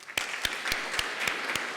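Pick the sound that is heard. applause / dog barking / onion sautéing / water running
applause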